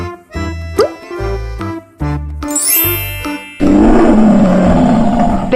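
A lion roars in a toddler animal sounds game: a short run of bright chime and jingle tones, then a loud, sustained, rough roar filling the last two seconds.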